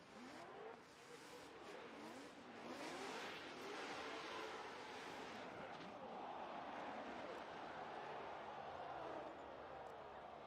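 Drift race cars in the video game CarX roar and whine around a track, engines sweeping up and down in pitch with overlapping passes, steady and loud throughout, with faint voices underneath.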